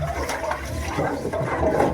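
A household tap under strong water pressure gushes in a loud, hissing, splashing stream that carries on steadily without a break, close by and with no talking.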